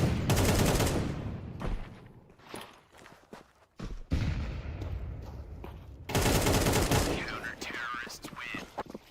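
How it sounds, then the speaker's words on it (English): Rapid bursts of gunfire from a Counter-Strike style tournament shooter game, loud clattering volleys separated by short pauses, with commentators talking over them. "And they are going to get instantly dropped by the AWP as well as Mazer's rifle."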